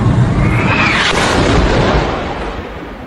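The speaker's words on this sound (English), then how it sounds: "now let's hear the hospital explosion again" Recorded explosion at a hospital, a single massive blast that fills the clip with a loud, dense roar and then slowly tails off over a few seconds.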